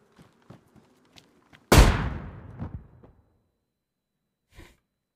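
A claymore mine in DayZ being shot and exploding, one sharp loud blast with a long, decaying rumbling tail, preceded by faint, sparse taps and followed by a soft distant thump.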